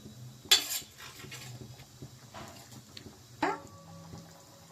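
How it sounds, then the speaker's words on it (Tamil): Ground masala gravy for paneer masala is poured into a pan and stirred, giving two sharp clanks of utensil against metal amid soft scraping and sloshing, close by with no talk. "கிரேவி அரைச்சி எடுத்துகிட்டு வந்தாச்சுப்பா, அதை நம்ம ஊற்றிடலாம்."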